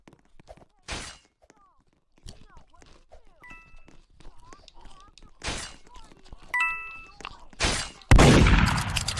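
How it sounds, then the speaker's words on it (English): Gunfire in a Roblox game: several sharp, loud broadband bursts scattered across the stretch, the last one harsh and sustained, with busy game sounds and voices talking in between. "I had gunshots."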